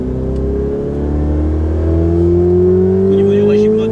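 Car engine revving up under acceleration on a road, the pitch climbing steadily as revs rise, loud and close throughout.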